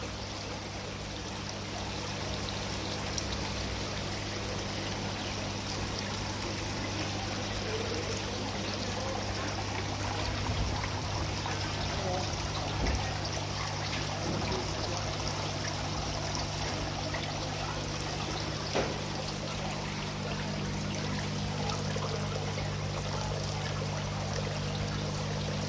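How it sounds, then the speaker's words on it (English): A wall-mounted cascading waterfall feature at a garden centre gives a continuous, even rush of falling water, steady and moderately loud throughout, with a low hum beneath. "A wall cascading waterfall."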